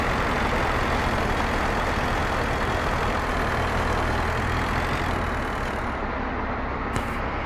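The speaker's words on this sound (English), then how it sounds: "it sounds like a bloody diesel" A diesel truck engine idles in the city-building game Workers & Resources: Soviet Republic, a loud, steady low rumble that drones on unbroken and eases slightly toward the end.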